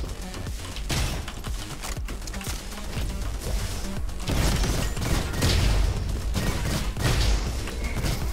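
Rapid gunfire in the video game Roboquest rattles in steady dense bursts, loud and continuous, layered with thumps and crashes from the game's combat.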